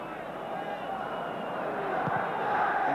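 Arsenal supporters at Highbury stadium applauding during a 1991 First Division match against Aston Villa, a steady, dense wash of crowd noise that swells slightly toward the end.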